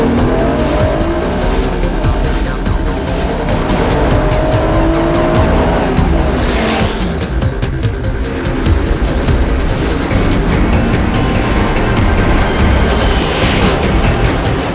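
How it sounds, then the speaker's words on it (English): A race car tears around a track at top speed, a loud continuous engine roar with tire squeal and skidding sweeping on for the whole stretch. "Turbo Kid is pulling out all the stops and has the pedal to the metal with top speed surpassing anything ever clocked at this track."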